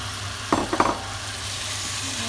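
Food being mixed in a sizzling pan, a constant frying hiss with a few brief scraping stirs of a utensil near the middle, close and alone.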